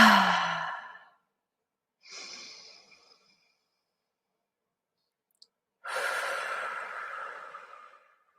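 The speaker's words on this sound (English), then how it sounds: "Go ahead and take a couple deep breaths." Deep breathing during a guided meditation: a long exhale, then a softer breath, a pause of silence and another long, slow breath out, each close and clearly audible in a quiet room.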